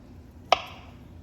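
A single sharp chop as a knife slices down through food onto a cutting board, one crisp close impact with a brief ring in an otherwise quiet room.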